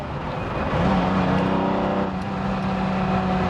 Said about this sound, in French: T'es pas obligé de rouler vite, t'as déjà les vocalises d'un V12.